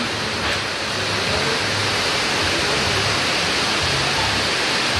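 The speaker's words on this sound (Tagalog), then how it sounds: "Ang lakas ng ulan." Heavy rain pours down steadily during an outing, a dense, even hiss that stays loud and unbroken throughout, with a faint low rumble beneath and no voices.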